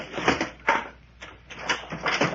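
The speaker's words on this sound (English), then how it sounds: "Then open the door." A door in an old-time detective radio drama is opened with a few separate creaking, sliding movements and soft knocks, close and moderately loud, with no voices.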